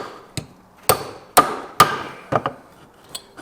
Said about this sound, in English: So I'm going to take my chisel here. This is the crude, difficult way that I've always done it.